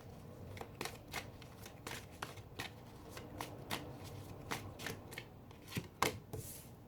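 A tarot deck is shuffled by hand in quick, papery riffles and slaps, a rapid string of close, crisp bursts with no talking.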